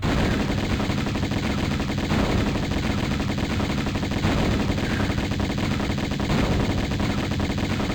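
Sustained rapid gunfire from Tomb Raider 1 Remastered, with Atlantean soldiers attacking, rattles loudly and continuously for several seconds, dense and unbroken with no talking.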